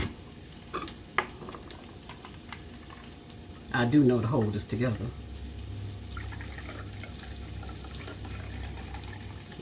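Liquid poured into a container in a home kitchen, heard as a steady, low, even stream that runs on after a stretch of close talk, with a few faint clatters earlier.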